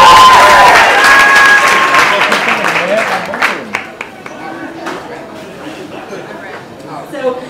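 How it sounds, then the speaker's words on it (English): A live audience at a haiku deathmatch claps and cheers loudly to vote for a round, the burst fading over several seconds into scattered claps and chatter, with a voice speaking over it. "applaud now"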